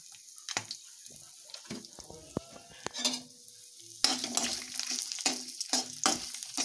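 Whole spices with dried red chilies, cloves, ginger pieces and garlic cloves dry-roasting in a pan while being stirred: close scraping and clattering with soft crackles and a light sizzle, with no talking.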